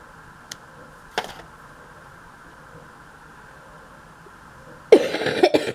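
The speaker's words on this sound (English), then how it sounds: "Yeah, I still have the cough." A single person coughs a few times, with a faint cough, a sharper one, and then a louder burst of coughing at the end, all close and alone in a quiet room.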